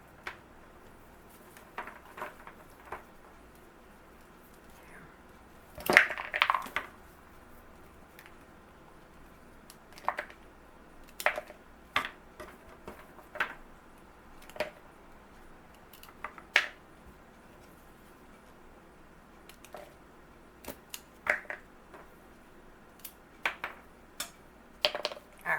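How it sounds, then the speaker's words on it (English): Kitchen scissors or clippers snip the tips off garlic scape stems, sharp isolated clicks scattered irregularly through a quiet room, each cut brief and close. "I just cut off right where the bud would be, and then I just clipped the end"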